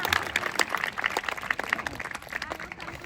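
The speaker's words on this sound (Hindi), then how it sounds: "आपको समझ में आया तो बजाओ ताली एक बार" Audience applause at a Hindi poetry recital, a steady wash of many hands clapping at moderate volume, slightly distant and reverberant, with no talk over it.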